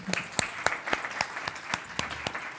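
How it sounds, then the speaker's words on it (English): Sparse, faint applause from a small conference audience after a keynote address, a handful of distinct claps spaced out over a couple of seconds. "I would request the audience to give a big round of applause."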